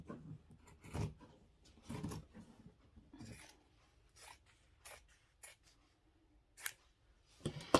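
Scissors cutting out a paper shape for a Valentine gnome craft, with scattered crisp snips and paper rustles at close range, separated by quiet gaps and ending in a louder cluster of cuts.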